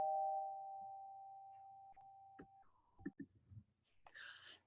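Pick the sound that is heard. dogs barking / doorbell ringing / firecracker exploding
doorbell ringing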